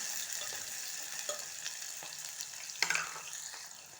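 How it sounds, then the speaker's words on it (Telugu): Green chilies and onions frying in a pan with cumin: a steady hiss of sizzling oil runs throughout, broken by occasional scrapes and clinks of a spoon stirring, close and moderately loud. "అలాగే పచ్చిమిర్చి ఉల్లిగడ్డలు ఉల్లిగడ్డలు వేసి ఇట్లా మంచిగా కలిపేసుకోవాలి"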